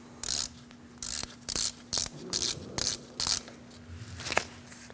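A ratchet with a T30 bit loosens the ABS sensor bolt on a 2012-2020 Chevrolet Sonic front hub, giving seven rapid clicking bursts in a steady rhythm, close and clear, with no talking.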